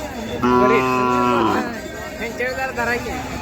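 A calf moos loudly nearby in one long, drawn-out call at a Khillar cattle market in Sangola, followed by fainter lowing and background chatter.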